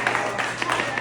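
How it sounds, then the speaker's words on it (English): Short scattered applause from a small open-mic comedy audience at a roast, uneven claps that rise and fall within a second. "give yourselves a round of applause for being here"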